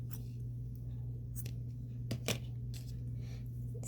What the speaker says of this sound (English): By the way, you can cut the yarn on your foot now.